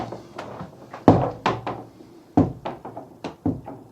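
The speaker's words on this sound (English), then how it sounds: "That door's gonna slam." A bathroom door on a houseboat thuds shut, several sharp knocking bangs and thunks spaced irregularly across a few seconds, close and loud with no talk.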